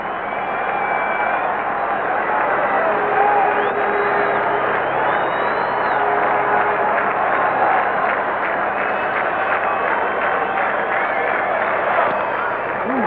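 A large baseball stadium crowd at a 1996 American League playoff game between the Yankees and Rangers, with broad, sustained cheering and applause filling the whole stretch at steady loudness.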